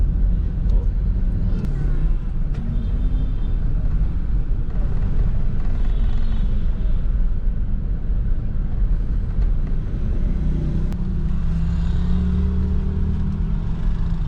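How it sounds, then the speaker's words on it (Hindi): A car rumbles at low revs while being parked, a steady close engine drone with faint voices in the background. "तो ये गाड़ी पार्क कर रहे हैं"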